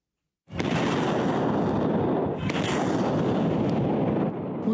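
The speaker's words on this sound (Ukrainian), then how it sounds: "Українські військові б'ють по ворогу з різного озброєння і стріляють прицільно." Artillery fire at the front line in Ukraine: a heavy boom erupts after a brief silence and rolls into a sustained, rumbling roar, with another sharp blast partway through.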